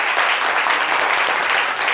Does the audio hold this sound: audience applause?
yes